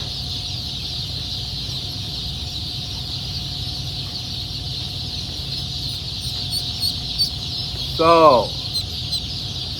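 A fawn and white runner duckling lets out one quick burst of peeping near the end, against a steady background hiss; a single short spoken word is heard.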